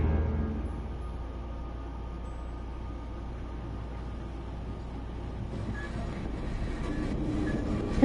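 A steam-era train from Sherlock Holmes Crimes and Punishments rumbles steadily with a low continuous roll of wheels on rails, staying even and moderately close throughout.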